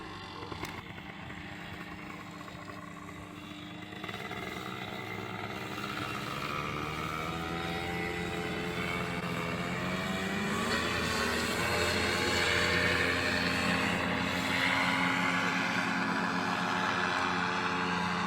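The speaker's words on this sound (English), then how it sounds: "Straight into my first dry run takeoff, all up with wing, motor and power" A paramotor engine on a powered paraglider runs during a dry-run takeoff, a loud, close, continuous buzzing drone whose pitch and power climb steadily as the throttle opens, with no talking.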